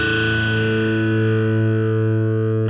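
Electric guitar through heavy distortion holds one sustained, ringing note or chord from a Queen riff, loud and steady, with a brief scrape right at the end.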